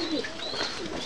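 Pigeons in a loft, newly paired birds after a six-hour flight, give soft, continuous cooing that sits close and steady with no talk over it.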